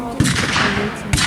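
Blank gunfire cracks out at a World War II battle re-enactment, with two sharp shots about a second apart over a dense, rumbling outdoor background.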